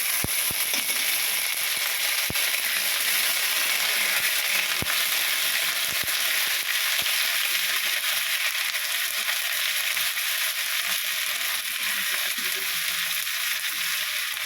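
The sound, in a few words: ginger added to frying crab masala, sizzling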